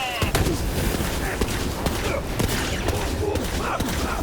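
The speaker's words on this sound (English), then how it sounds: "we're shooting the shit out of him" Dense, rapid gunfire from the Borderlands 3 Guns, Love, and Tentacles campaign rattles on without pause, with loud overlapping shots and impacts filling the whole stretch.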